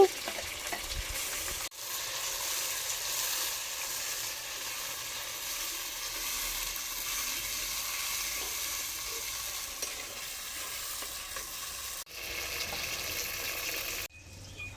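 Chopped onions and two tomatoes fry steadily in a pan, giving a continuous bright sizzle with brief stirring breaks, loud and close with no talking.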